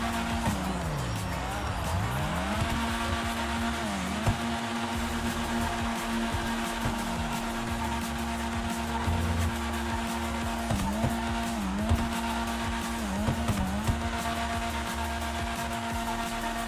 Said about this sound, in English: Is that a drift go-kart?